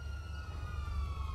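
An ambulance siren in GTA 5 with the LSPDFR police mod, a steady high wail with harmonics over a low engine rumble, continuous and fairly close throughout.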